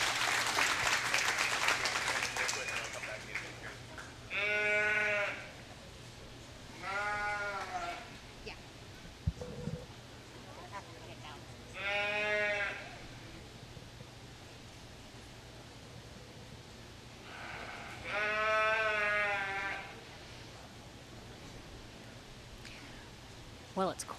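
Lambs bleat in loud bursts at a junior fair livestock show, several separate calls spaced a few seconds apart over a low, constant background hum, with no talk in between.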